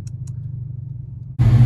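An LS-swapped Hellcat car engine idles with a low steady burble, then blips sharply at about quarter throttle into a loud, close roar near the end.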